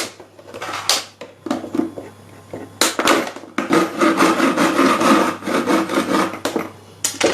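A heated plastic bottle has its bottom pierced while being made into a recycled bird feeder, giving repeated close, rough scraping and rasping bursts of uneven length with short pauses between them.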